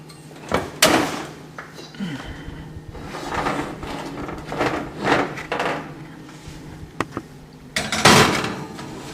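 An oven door handled while an apple crisp goes in to bake at 400 degrees Fahrenheit, with several sharp knocks and thuds among kitchen clatter and a second clear bang near the end.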